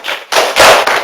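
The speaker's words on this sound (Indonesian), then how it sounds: "Tepuk tangan untuk kelompok 2." A classroom of students gives a short burst of loud, close clapping for a presenting group during a biology microteaching lesson, in several quick surges over about a second.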